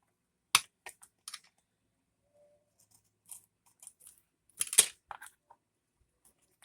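Scissors cut through book-page paper for a journal insert in a few short, crisp snips separated by near silence, close and fairly quiet, with one louder cluster of cuts midway.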